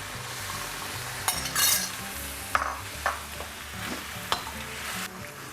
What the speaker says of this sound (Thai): แล้วก็ผัดให้เข้ากันนะครับ